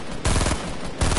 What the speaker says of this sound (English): Yeah, keep on shooting!